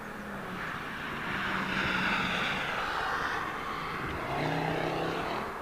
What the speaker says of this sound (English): they use a lot of reverser on those 220s